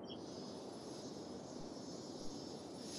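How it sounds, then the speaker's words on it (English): Airplane engine roar in the city-building game Cities Skylines, a steady broad droning rumble with a faint high whine that holds level throughout, without talking. "So that means these people are suffering from airplane noise."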